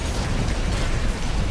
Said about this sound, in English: Uh oh, explosions!